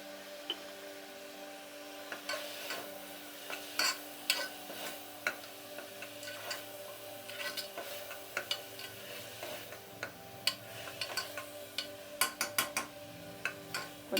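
Onion, tomato and green chilli with salt sauté quietly in a pan, a soft steady sizzle broken by frequent clicking taps and scrapes of a stirring spoon.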